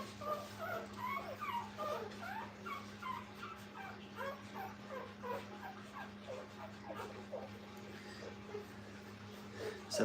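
A litter of kennel puppies whimpers and squeaks nonstop while nursing, many small overlapping cries at moderate distance over a steady low electrical hum.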